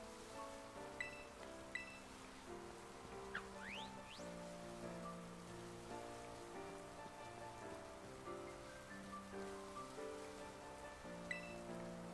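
Steady rain falls throughout a picnic scene in the Pokémon Scarlet video game. A soft, even patter sits under a layered musical backdrop, with a few brief bright chirps.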